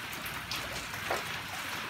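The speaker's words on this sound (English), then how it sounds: "It's raining." Steady rain falling on and around a roof sheltering a skateboarding spot, a dense even hiss with faint scattered drips, continuous and moderately loud throughout with no voices.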